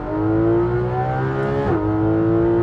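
A Porsche 991 GT3 RS engine holds a loud, steady high rev close by, with one quick gear-shift dip partway through before the tone settles again.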